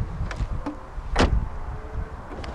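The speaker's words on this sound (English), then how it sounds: "The windows dip down a little bit as you open the doors" A 1995 BMW 840Ci car door unlatches and opens with a brief whirring of a window motor lowering the frameless glass slightly, then a soft click; fairly close, no talking.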